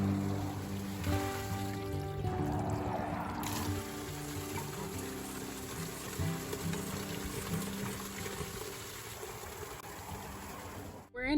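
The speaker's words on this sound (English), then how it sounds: "We stopped at this water spring on the side of the road and filled up our water bottles with this fresh spring water." Fresh spring water pours and trickles into water bottles at a roadside spring, a steady faint splashing stream with a tonal hum early on that fades to a constant gurgle.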